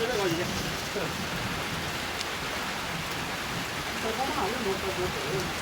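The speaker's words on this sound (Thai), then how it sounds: "ฝนตก" Steady rain falls during a summer storm, a dense, even hiss of drops on surfaces filling the whole stretch, close and continuous, with faint voices heard under it.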